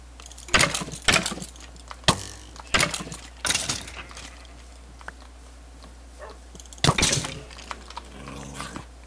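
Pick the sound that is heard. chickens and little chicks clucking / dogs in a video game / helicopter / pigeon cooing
dogs in a video game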